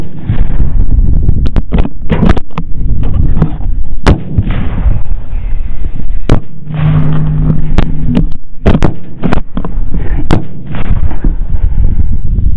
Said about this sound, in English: Our shots were well in sync, and now we'll watch it from Ray's angle